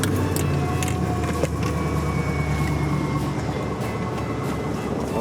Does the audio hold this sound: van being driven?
yes